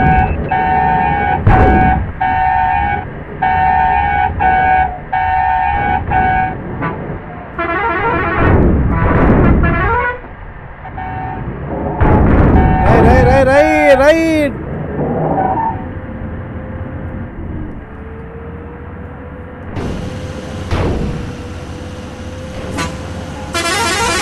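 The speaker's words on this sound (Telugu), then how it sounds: "మరి బాగున్నాయా బస్సు హార్న్లు చూడండి" Loud, sustained horn blasts from buses in Bus Simulator Indonesia. Long steady tones and a few shorter honks sound over engine rumble, with one musical multi-tone horn sweeping through its notes near the end.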